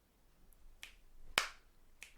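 Sharp finger clicks serving as a quiz buzzer, three crisp snaps spaced out over two seconds, the middle one loudest and closest, with near silence between them.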